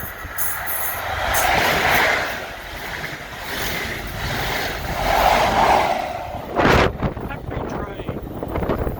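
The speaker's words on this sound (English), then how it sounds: "And I think they caught a happy train." A train rumbles past nearby along Brunel's seawall with rolling mechanical noise and wind buffeting the microphone, swelling and fading, with a sharp clatter near the end.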